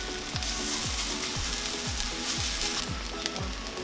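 Squash pancakes sizzle and crackle in a hot pan on a large stovetop burner, a steady close frying hiss with a regular rhythmic scraping or stirring tick throughout.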